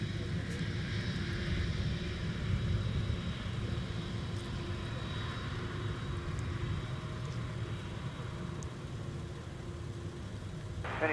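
At Minneapolis-Saint Paul airport, an airliner takes off from the runway with a continuous low, heavy engine rumble and a broadband roar held at a steady level throughout, without talk.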